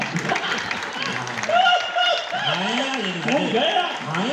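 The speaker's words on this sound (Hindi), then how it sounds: "इस बात पे ताली बजाना था" An audience at a live comedy show in Dhanbad breaks into applause, a spread of claps that rises and falls under a performer's talking voice.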